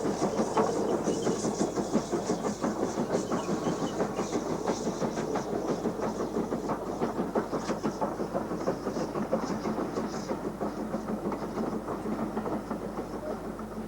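Evening Star, a British mainline steam engine, works on the West Somerset Railway with a loud, rhythmic chuffing and clatter that carries steadily throughout without a break.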